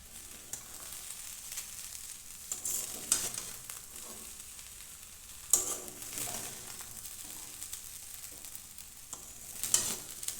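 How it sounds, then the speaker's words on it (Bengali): Cauliflower pulao is stirred slowly in a pan, a soft continuous sizzle with a few gentle scraping strokes of a spatula against the pan at intervals, quiet and close with no talking. "এবার আস্তে আস্তে এটা আমি নেড়ে দেব।"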